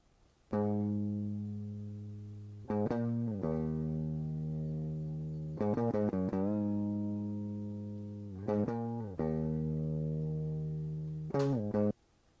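An electric guitar plays a slow, dry direct-input riff of sustained notes with short bends and pauses between phrases, close and clear, with no voices.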